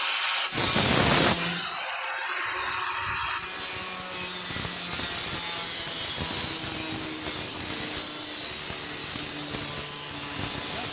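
A power tool grinds along the freshly cut edge of sheet metal, a loud, harsh high whine that bursts briefly, drops off for a moment, then runs steadily and close for the rest.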